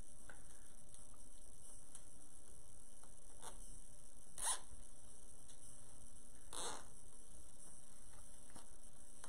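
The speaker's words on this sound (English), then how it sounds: "I'll just use a zip tie." Zip tie ratchets sharply a few times against a steady background hiss, with quick, close clicks spaced a second or two apart during a wreath-board craft project.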